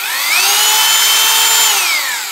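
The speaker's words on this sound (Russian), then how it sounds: "То есть это в режиме сверления вместе с биением, ударом." A Bosch GBH 2-24 D rotary hammer drills in hammer mode, a loud, close motor whine that ramps up, holds steady for over a second, then winds back down.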